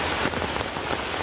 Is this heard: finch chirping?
no